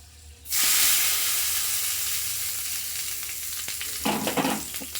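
Tomato chutney with coriander leaves hisses loudly in a hot pan as it is stirred; the sizzle rises abruptly, then settles into a steady fry, with scraping spoon strokes near the end and no talk.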